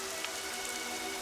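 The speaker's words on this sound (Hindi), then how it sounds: "इतनी बारिश हो रही है" Heavy rain pours down steadily, a dense, even hiss of drops on surfaces that fills the scene without any break.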